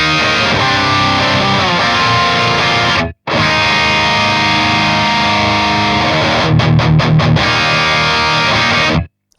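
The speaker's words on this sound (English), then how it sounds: "So again, this is the bridge pickup." A PRS McCarty SC56 electric guitar on its bridge pickup plays a loud, heavily distorted riff with sustained chords, a sudden brief cut after three seconds, then choppy palm-muted stabs before ringing out and stopping.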